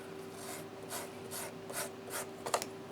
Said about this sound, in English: basically what it's doing is just shaving the leather so it's not too thick